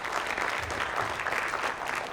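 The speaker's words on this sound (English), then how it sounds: "A nice round of applause." Applause for a speaker at a district candidates night in Bristol: a crowd clapping steadily and densely throughout, fairly loud and continuous with no talk.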